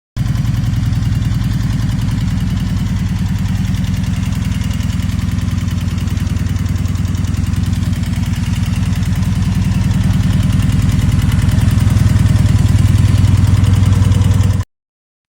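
A 2008 Kawasaki Vulcan 1700 cruiser's 1,700 cc V-twin idles steadily with a deep, even throb, close and loud throughout, swelling slightly near the end before cutting off abruptly.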